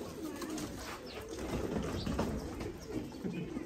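A breeder pair of pigeons coos softly in low, rolling pulses, steady and close, with a faint background hiss and no talk.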